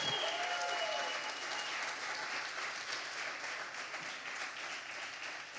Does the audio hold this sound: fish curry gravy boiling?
no